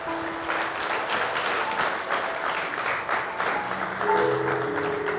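Sustained applause from a church congregation, a steady dense wash of clapping that holds at even loudness throughout, with some sung or held tones underneath and swelling slightly near the end.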